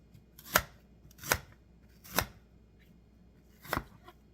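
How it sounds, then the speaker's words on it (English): A knife cuts through onion on a cutting board in four distinct, crisp chops, irregularly spaced, close and fairly quiet against a near-silent kitchen. "I'm going to cut up the other onions"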